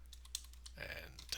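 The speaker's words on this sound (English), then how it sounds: "and type your name." Typing on a computer keyboard comes as a faint run of quick clicks close by over a low steady hum, with no voice.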